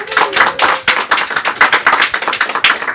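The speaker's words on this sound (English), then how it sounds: "You can hear the claps are getting a little bit louder as more and more people show up" An audience at an art auction for autism claps in a steady stream of sharp, overlapping handclaps, fairly close and lively, with no talking over it.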